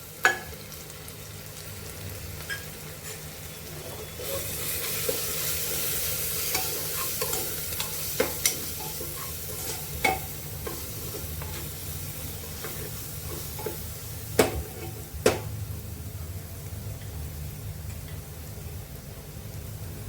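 Red chilli powder, cumin, coriander powder and turmeric sizzle with onions in hot oil for suran bhaji, an elephant foot yam dish, under a steady hiss, with repeated close spoon scrapes and clinks against the pan.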